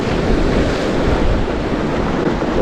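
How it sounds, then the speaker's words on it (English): Strong wind buffets the microphone while rough waves crash and wash against rocks and boulders at a rocky shore, making a loud, continuous roar of surf and gusts with no break. "it is rough today and it is very,"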